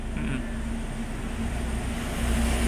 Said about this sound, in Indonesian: melintas truk yang warnanya hijau, penuh, full muatan, meluncur ya